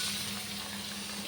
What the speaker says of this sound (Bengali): এগুলো 3-4 মিনিট একসঙ্গে ভেজে নেব পেঁয়াজের সাথে।